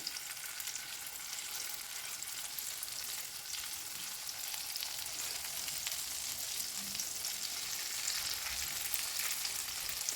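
Meat cutlets frying in a pan give a steady, even hiss of sizzling oil, moderately quiet and close, with no voices over it.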